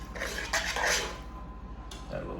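Penne pasta being stirred with sauce in a pot for a baked Italian casserole, a close, moderately loud scraping and clinking of utensil against cookware in uneven bursts, with no talk.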